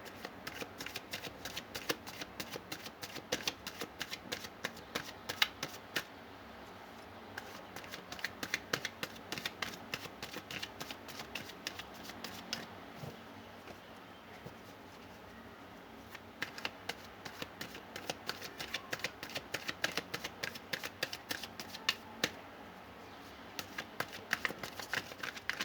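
Tarot cards are shuffled by hand in repeated quick riffling bursts, crisp and close, with short pauses between rounds and no talking.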